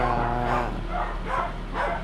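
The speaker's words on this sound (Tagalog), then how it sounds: "medyo maingay yung aso" A dog barks and whimpers in short repeated bursts nearby, a few yelps spaced across the moment over a low background rumble.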